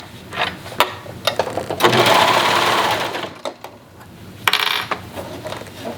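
A sewing machine stitches the seam of a lined tank top sewn with the burrito roll method, opening with short clicking bursts before a steady whirring run of about a second and a half, then a few more brief bursts, close and alone.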